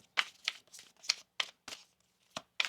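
Tarot cards being shuffled in quick, crisp riffles and slaps, about eight short papery bursts at an uneven rhythm, close and clear with no talking.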